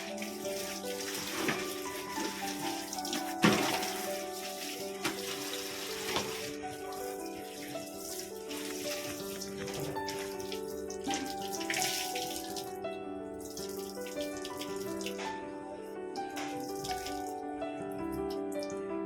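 A water tap runs steadily into a sink or bucket during household washing, with splashing and shifting flow throughout, alone and close by.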